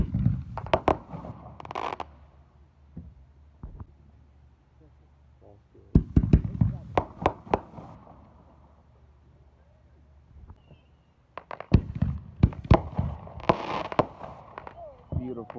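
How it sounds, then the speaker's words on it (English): Fourth of July fireworks bang and crackle in repeated bursts, some sharp and close, others rumbling further off, with quiet gaps between volleys and faint voices now and then. "the fireworks are so pretty, it's bringing tears to my eyes"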